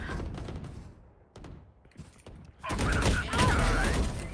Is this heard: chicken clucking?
no